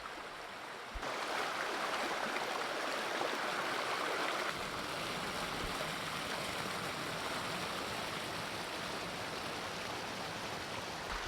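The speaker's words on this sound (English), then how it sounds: "Okay, we made it to the creek." Creek water flowing on Vancouver Island, a steady broadband rush and babble that fills the scene continuously, close and fairly loud, with a couple of faint knocks.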